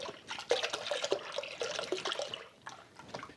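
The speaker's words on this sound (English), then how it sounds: "Now the liquid part, 500 mils of full fat milk" Full fat milk poured into a pan, a close, splashy liquid stream with small gurgles lasting a few seconds, no talking.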